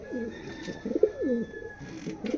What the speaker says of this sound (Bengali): কি কোয়ালিটির কবুতর রয়েছে এখানে